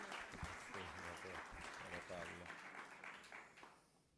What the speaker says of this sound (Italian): a cui vanno i complimenti e l'applauso di tutti